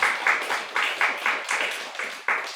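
Congregation in a church applauding during a communal-meal Sunday service, a steady rhythmic clapping of a modest crowd in unison-like bursts, fairly close and lively throughout.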